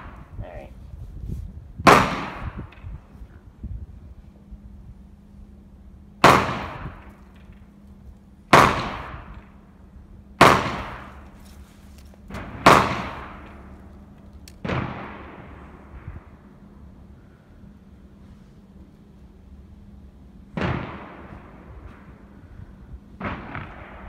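Shots from a .40 Smith & Wesson M&P semi-automatic pistol fitted with Trijicon sights crack out about eight times, irregularly spaced and loud nearby, each leaving a short ringing tail over a low background hum.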